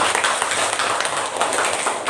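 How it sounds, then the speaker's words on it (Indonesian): Group applause at a classroom teacher workshop, a steady dense patter of many hands clapping together, fairly loud and continuous with no voices over it. "Kita kasih tepuk tangan untuk kita semua."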